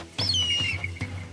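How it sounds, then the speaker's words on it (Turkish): A falcon gives a shrill, whistling call that slides downward, loud and near, with a few soft thumps underneath. "bu kuş. Akıncı Sungur'un şahini"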